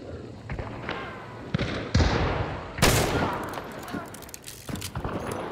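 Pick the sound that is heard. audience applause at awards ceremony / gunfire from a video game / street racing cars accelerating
gunfire from a video game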